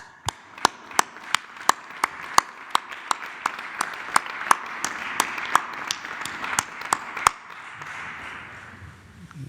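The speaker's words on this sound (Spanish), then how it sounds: "me permite yo darles un aplauso a los todos" Business leaders from the oil industry receive scattered applause at a government press event: sharp, spaced claps from a few people, fairly close, thinning toward the end.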